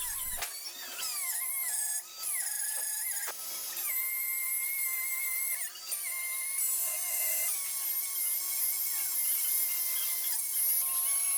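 Handheld router fitted with a trim bit cutting wood, a continuous high-pitched whine that shifts in pitch as the bit bites and eases, with brief dips in load, loud and close.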